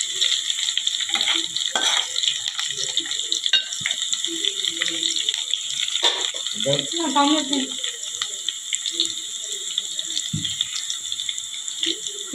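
Ingredients for tamarind rasam stirred and lightly fried in a pan, soft sizzling with clinking and scraping of a spoon, intermittent bumps and splashes, fairly close.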